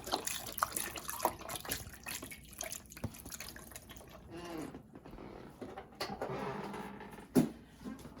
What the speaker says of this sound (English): I like to add broth so it can get a taste with in the potatoes.